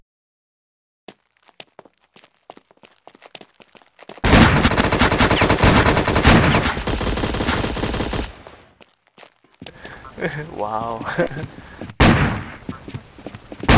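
Shotgun blasts in the video game War Inc Battle Zone come as sparse clicks and then a loud, dense burst of rapid shots lasting several seconds, followed by a person talking and another sharp burst near the end.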